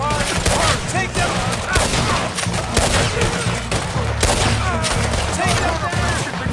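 Rapid, dense gunfire rattles without pause in a Red Dead Redemption 2 shootout, shots overlapping in loud cracks and bursts that fill the whole stretch.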